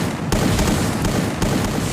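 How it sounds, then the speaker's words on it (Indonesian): Gunfire in a competitive video game match, a loud dense stream of shots with a few sharper bursts standing out at regular intervals, close and continuous without talk. "Pantau suara-suara tembakan secara intens."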